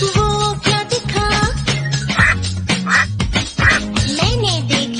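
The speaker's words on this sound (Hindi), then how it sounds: "मैंने देखी बतख," Duck quacks in a Hindi nursery rhyme for babies about animal sounds, a quick run of bright, close quacks set among sung melody and music.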